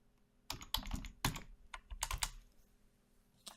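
Computer keyboard typing in a quiet room, several quick clustered bursts of keystrokes followed by a pause and a single tap.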